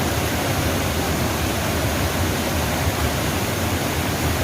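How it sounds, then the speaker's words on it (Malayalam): Meenmutty waterfall at Tholikuzhi near Kilimanoor, Kerala, roars in a dense, unbroken rush of falling water, loud and close, with no voices. "മീൻമുട്ടി വെള്ളച്ചാട്ടം നല്ല മനോഹരമായ ഒരു കാഴ്ചയാണ് നമുക്ക് നൽകുന്നത്"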